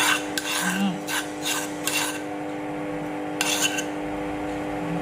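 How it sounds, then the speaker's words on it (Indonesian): Mashed potato and tuna dough for perkedel being stirred in a bowl, several rhythmic scraping strokes of a utensil against the bowl, close and clear over a light background hum. "Siapkan satu wadah seperti ini buat kita mengaduk adonannya ya sampai rata"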